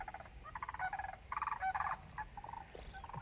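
Sandhill cranes trumpet in bursts of rolling, rattling calls during a spring gathering in Nebraska, a flock heard at moderate distance with overlapping voices rising and falling across a quiet outdoor background.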